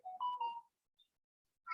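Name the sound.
phone ringtone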